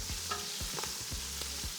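Hot oil sizzles steadily as root vegetables deep-fry while a utensil stirs and scrapes through the pan in a few quick, close strokes.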